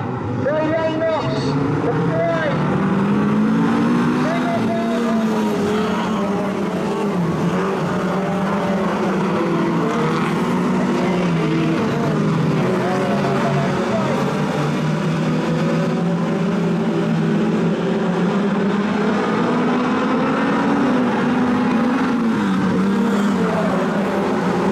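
4 cylinder sedans race at Maryborough Speedway in Queensland in a title A-main, engines droning and revving steadily throughout, with a commentator talking over the noise.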